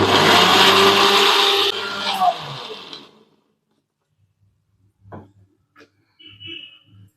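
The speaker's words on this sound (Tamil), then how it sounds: "நம்ம தண்ணி விட்டு அரைச்சிக்கலாம் தண்ணி விட்டு அரைச்சிங்கன்னா நல்லா மையாக அரைச்சிரும்" A mixer grinder grinding masala with water for frying fish whirs loudly for about three seconds, then winds down and stops, leaving near silence with a few faint clicks and sounds.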